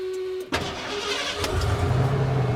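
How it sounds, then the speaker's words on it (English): A camper van engine with engine trouble cranks with a brief whir, catches after a moment, and settles into a steady low idle. "I'm going to go ahead and start the engine and see if it works"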